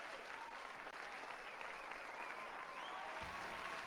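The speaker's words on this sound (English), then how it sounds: "Get some applause in here." An audience at a gala event for a sledding game claps in steady, sustained applause, a dense patter of many hands, moderately distant and even throughout.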